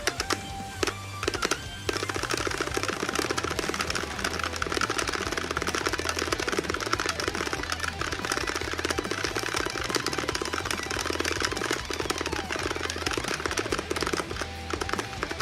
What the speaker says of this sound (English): The tape makes the strum bar bounce in a very specific way, so whenever I flick it, it gives me a certain amount of inputs each time.